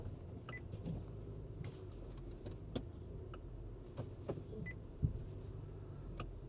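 Low engine idle with a few faint mechanical clunks and knocks as an Acura ZDX shifts into drive.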